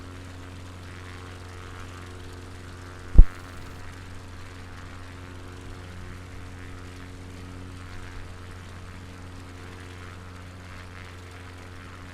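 A small propeller plane flies near a small airfield on the Devon coast, its engine a steady, fairly distant drone under one sharp knock partway through.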